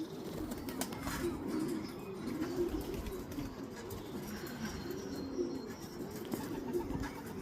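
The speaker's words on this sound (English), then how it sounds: "I'm just sitting with the young birds" Young racing pigeons coo softly and continuously, several birds murmuring together close by on grass against a gentle outdoor background.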